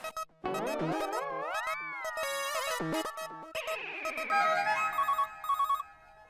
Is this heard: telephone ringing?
yes